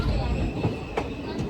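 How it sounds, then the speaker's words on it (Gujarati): A passenger train to Mangrol pulling off slowly in heavy rain, a low continuous rumble with faint rail clicks and squeals, a voice talking over it. "ધીમે ધીમે ફાઇનલી આપણી ટ્રેન હાલતી થઈ ગઈ"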